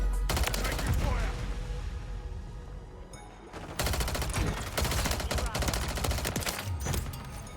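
Gunfire in Call of Duty MW3 with a Striker 9 setup: dense bursts of rapid automatic shots with brief gaps, loud and close, mixed with game effects.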